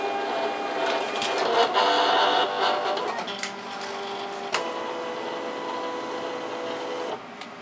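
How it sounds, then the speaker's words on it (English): A Silhouette Cameo cutting machine reads registration marks on a sheet for a Pepakura papercraft project, giving a steady mechanical whir with shifting motor tones and a click near the middle before settling and stopping near the end. "the machine is going to read the registration marks"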